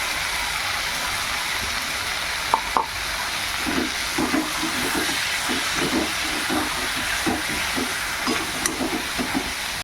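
Potato and ridge gourd fry in oil in a pan, giving a continuous close hiss with a scatter of soft bubbling pops and scrapes.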